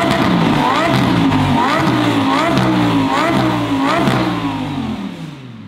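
Exotic car engine revved hard several times in a row, a loud close roar rising and falling in repeated bursts before fading at the end.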